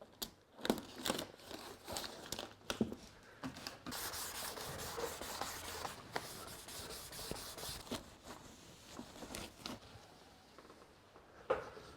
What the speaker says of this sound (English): I've finished sanding